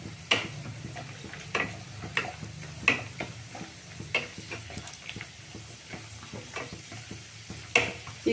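Raisins and almonds roast in hot ghee for wheat-flour laddu, a soft continuous sizzle broken by regular light clicks and scrapes of stirring, close by with no talk.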